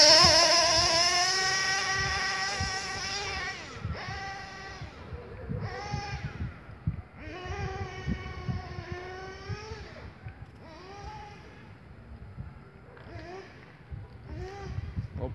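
Nitro 3.5 engine on a RedCat Earthquake 1/8-scale RC car, loud high-pitched revving that starts close, then comes in repeated bursts of acceleration and fall-off as the car moves around, fading somewhat toward the end.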